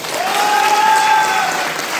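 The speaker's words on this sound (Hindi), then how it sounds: "मैं चाहूंगा एक बार जोरदार ताली हो जाए" An audience at a company success event applauds with sustained, loud, steady clapping that fills the whole stretch, while a thin tone carries along with it.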